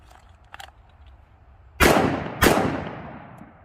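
Two sharp pistol shots fired at a shooting range by someone practicing appendix carry, about half a second apart, each loud and close with a ringing decay, after a few faint handling clicks.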